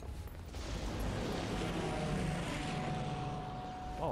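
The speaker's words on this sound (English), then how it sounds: "Oh, I heard a plane." Aircraft passing overhead in the WWII shooter game Sniper Elite: a broad, rumbling drone that swells and holds steady at moderate loudness for several seconds, with a faint tonal whine riding on top.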